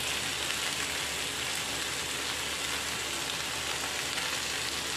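Chicken with chopped carrot and cabbage fries in a pan, giving a steady, close, even sizzle and crackle that carries on without a break and with no voices.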